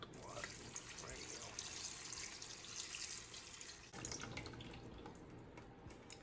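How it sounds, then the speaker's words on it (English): Distilled water is poured into the pot of a Monstera Thai Constellation with root rot, a steady close trickle and splash that runs for a few seconds, changes briefly, then continues. "I'm just gonna add some distilled water and I'm gonna put it here"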